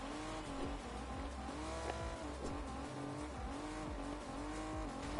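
A race car in the video game Rocket Racing revs and accelerates with steady engine tones rising and falling in repeated sweeps, tires squealing through drifts, loud and continuous with no voices.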